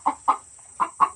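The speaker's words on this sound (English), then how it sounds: "You're very loud. Very noisy chicken." A hen clucks loudly and close up in four quick, sharp bursts, with short pauses between them.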